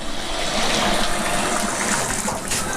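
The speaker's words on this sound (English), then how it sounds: "engagement of the shower head." Shower head running steadily after a repair to screaming pipes, a dense, even rush of water spraying without pause, close and fairly loud with no talking.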